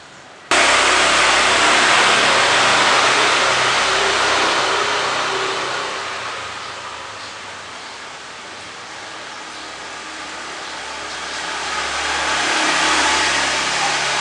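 A car engine, switched on from an Android phone app, roars loud and close almost at once after a brief quiet start, then holds a sustained revving drone that dips slightly midway and swells again, with no one speaking.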